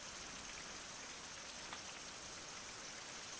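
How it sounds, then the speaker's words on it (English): Steady rain hisses down throughout a survival video game, a dense, even patter of drops on surfaces with no voices, holding at a constant moderate level from start to finish. "Oh no, not the rain again."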